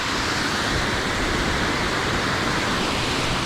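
Hot volcanic spring water flowing steadily at a high-altitude thermal spa in the forest near Manizales, Colombia, a dense, continuous rushing wash close by, with no voices.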